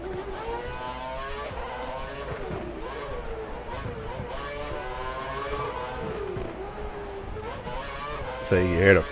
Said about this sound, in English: So you hear the fire, like just shooting out the back of the car.